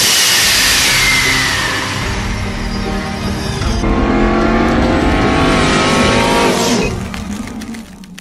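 A 2016 Ram 3500 pickup with the 6.4 Hemi V8 runs loud and close, its engine roaring steadily with a rising rev around the middle before easing and dropping away at the end.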